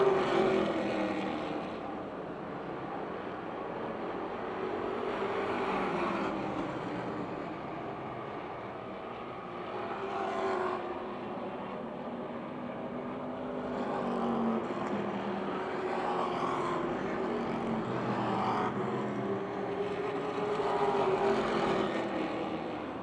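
Race cars lap a speedway oval late in a race, with a steady distant engine drone that swells and fades as the pack passes, and no voices.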